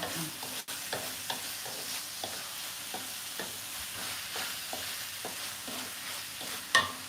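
Minced pork filling for salty khanom tian stir-fried in a pan, with a steady sizzle and regular scraping strokes of a spatula roughly every half second, fairly close and moderately loud, with no talking.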